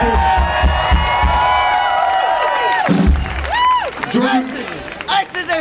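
Crowd at the Georgia Theater during Athfest 2009 cheering, whooping and applauding, loud and close, with a voice speaking over the noise.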